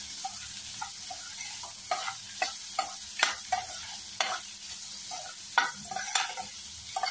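Food sautéing in a pan over a low-medium flame for a tamarind-free, tomato-free Indian lunch dish, with a steady soft sizzle and scattered scraping stir strokes across the clip, with no talking.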